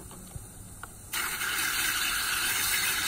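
Water rinses paint off hand tools, starting suddenly after a couple of faint taps and then running as a steady, loud gushing spray with no talking.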